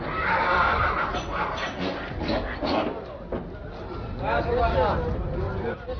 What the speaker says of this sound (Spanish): Los borriquillos gozan de gran consideración para sus habitantes.